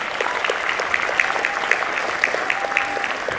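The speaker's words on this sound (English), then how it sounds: "You can clap for that." A convention audience applauding at a celebrity panel, steady close clapping from many hands sustained throughout with faint cheering mixed in.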